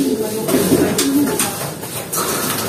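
A pigeon coos softly and close by in a few low, throaty rolls, with rustling and other background noise around it.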